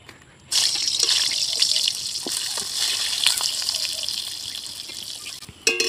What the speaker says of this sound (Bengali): আমি এখানে রিফাইন অয়েল নিয়েছি, এর মধ্যে বেগুনটা ভেজে নেব।